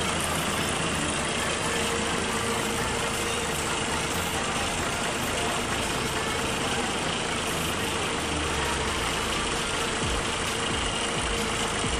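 A Hino rear-engine bus with Laksana bodywork idles at an arrival shelter, giving a loud, steady, continuous diesel rumble with no break.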